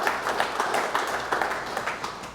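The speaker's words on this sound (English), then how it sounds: "Give him a round of applause real quick." Faint, scattered clapping from a small group, brief and soft.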